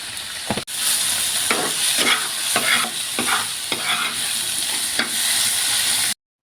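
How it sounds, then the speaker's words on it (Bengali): Onion, garlic, shrimp and green chillies fry together in mustard oil in a pan, a close, steady hiss and sizzle broken by repeated scraping stirs of a spatula. "তারপরে একসাথে পেঁয়াজ, রসুন, কয়েকটা চিংড়ি মাছ আর কয়েকটা কাঁচা লঙ্কা দিয়ে ভেজে নেব।"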